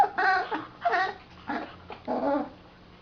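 A jealous female dog whimpers and whines in several high, wavering bursts, close and fairly loud, with short pauses between the cries and a low steady hum underneath.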